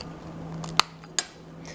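A kitchen knife twisted in the seam of a 2016-2020 Mitsubishi Outlander Sport key fob, giving two sharp plastic clicks a moment apart, close and quiet, over a faint steady hum.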